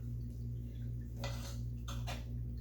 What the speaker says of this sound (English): I'll probably cut just one tomato just for effect for you guys